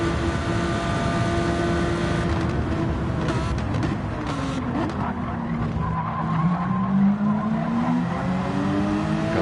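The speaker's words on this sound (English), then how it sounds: "Look at the Lamborghini pull back through." Lamborghini race car in a racing video game, tires squealing and skidding loudly through a corner while the engine note climbs and dips, close and continuous with the squeal dominating.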